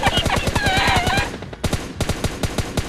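Rapid automatic gunfire in the mobile battle royale game PUBG Lite, loud sharp shots in quick even bursts with a brief pause before firing resumes.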